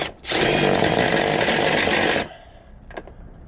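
A power drill whines steadily for about two seconds while driving a screw during an air-conditioning install, loud and close, then stops, leaving faint handling clicks.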